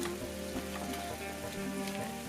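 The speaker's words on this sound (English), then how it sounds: "They're sizzling." Potato fries with spices sizzling in a hot oven, a dense steady crackle and hiss with scattered pops, close and fairly quiet, with no voices.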